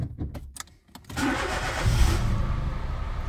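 A Citroen C1 / Peugeot 107 / Toyota Aygo small car cranks in a few sharp bursts, pauses for a moment, then catches and settles into a steady, close idle.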